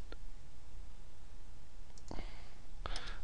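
A few sharp computer mouse clicks, close and crisp, spread across a short stretch of faint room noise while working in Office 2010 software.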